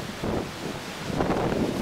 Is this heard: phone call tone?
no